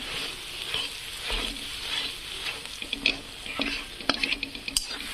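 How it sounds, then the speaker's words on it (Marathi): Masala sizzling and frying in a pan for a fish recipe, stirred with a spoon, a steady close hiss with scraping clicks and light taps scattered through, no talking. "तर मसाला फ्राय होत आहे."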